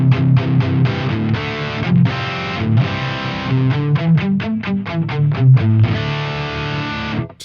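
Heavily distorted rhythm guitar through a Neural DSP Quad Cortex preset, loud chugging palm-muted riffs with rapid staccato chords and sustained power chords, continuous and without talking.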